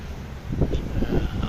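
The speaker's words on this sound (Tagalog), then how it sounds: "Masyadong mahangin guys." Strong wind buffets the microphone on a rooftop in Tagaytay, a close, gusty low rumble that swells and fades in uneven waves.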